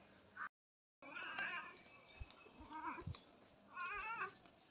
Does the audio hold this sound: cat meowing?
yes